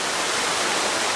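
Kanfare waterfall, a village falls used for swimming, pours in a loud, dense, continuous rushing roar heard up close for about a second.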